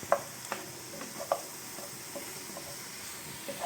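Garlic sizzles gently in a pan, with soft scraping stir strokes and light ticking taps of the utensil recurring every half second or so, quiet and close with no voices.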